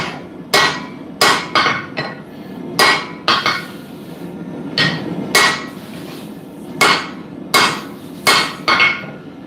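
A blacksmith hammers metal to shape a hammer head, sharp ringing blows landing in uneven clusters of two or three, about a dozen strikes, loud and near with no talk.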